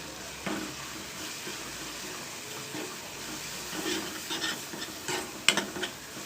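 Spices fry for rajma with Kashmiri red chilli powder in a Punjabi-style pan, crackling and sizzling steadily under stirring scrapes, with a few sharper clicks and a hint of running water.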